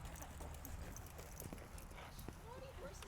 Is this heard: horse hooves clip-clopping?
yes